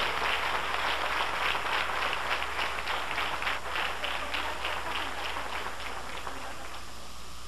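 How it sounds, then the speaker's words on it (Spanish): Audience applause at a high-fantasy hairstyling showcase, a dense, steady wash of many hands clapping that holds for several seconds and eases slightly toward the end. "Vamos a brindarle un aplauso como solamente ustedes lo pueden hacer."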